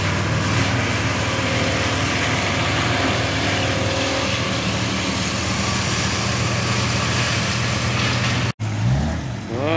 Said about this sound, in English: he's running a Husqvarna's here, this company